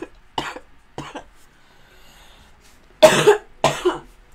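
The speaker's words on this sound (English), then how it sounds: "cough. That's very important." Several short coughs, two spaced bursts and then a louder pair a few seconds later, close to the microphone with quiet gaps between.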